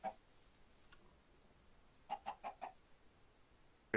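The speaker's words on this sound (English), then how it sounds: "Chickens for you." Video game chickens give short clucks, one at the start and a quick run of four soft clucks midway, faint against a quiet background, with a louder cluck at the very end.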